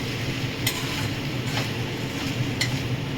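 Chilli chicken in a wok being stirred with a dissolved white slurry, a steady dense bubbling sizzle with a few scraping clinks of the utensil against the pan.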